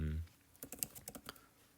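Quiet keystrokes on a computer keyboard come in a quick irregular run of soft taps, close and faint, after a brief low hum at the start.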